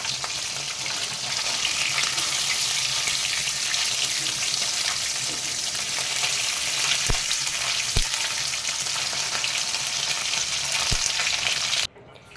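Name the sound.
mourola fish frying in oil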